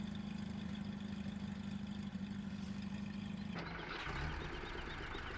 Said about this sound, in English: Kind of standard in-game starting equipment there. Ural, or no, UAZ, I think it is. UAZ truck.